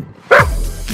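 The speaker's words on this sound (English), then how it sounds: "She also barks at everybody and everything." A dog, one of either an eight-year-old Weimaraner or an eight-month-old German Shepherd in training, lets out a single loud, close bark that starts abruptly and then rings on briefly.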